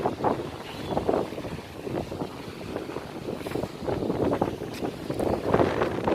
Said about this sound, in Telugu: గాలి కూడా ఎక్కువగా వేస్తుంది అక్కడ